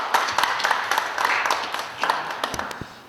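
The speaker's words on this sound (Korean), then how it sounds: "우리가 박수로 영광을 드리겠습니다." A church congregation claps in praise after a sung hymn at a Sunday service, scattered distinct claps forming loose applause.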